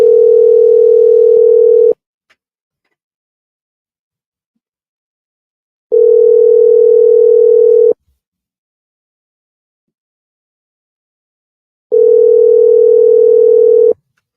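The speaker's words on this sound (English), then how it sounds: "People, when I hear the phone ring." A steady telephone ringback tone sounds on a call in three loud, even two-second bursts, each followed by about four seconds of silence.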